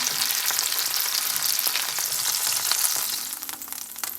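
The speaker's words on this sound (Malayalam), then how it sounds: "ചെമ്മീൻ നന്നായിട്ട് ഫ്രൈ ആയിട്ടുണ്ട്, നമ്മളിതൊന്ന് എടുത്ത് മാറ്റുവാണ്." Prawns crackle and sizzle in hot oil for a Kerala-style konju roast, a steady dense fry close by with scattered sharp pops, easing slightly near the end as a faint low hum enters.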